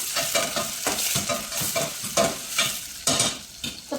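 Onion and tomato fry in a pan for a tempering, with a steady close sizzle broken by repeated scraping stirs of a spatula, some strokes louder than others, and no voices.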